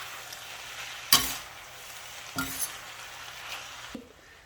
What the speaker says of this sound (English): we're going to go ahead and add the spaghetti in and stir that all up